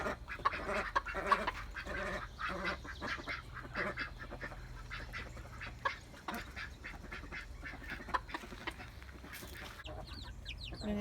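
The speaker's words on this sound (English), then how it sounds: "The duckies have turned into a fine little flock." A small backyard flock of ducks on a Maryland mini farm, quacking in a busy, overlapping chatter at moderate distance, with chickens clucking among them and no talking.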